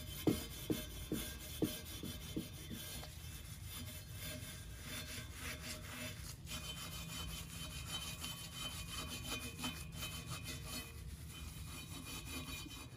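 A brush scrubbing rust-treated painted metal after Evapo-Rust treatment, starting with a few distinct strokes and then settling into steady, continuous rasping friction that stays close and moderately loud with no talk.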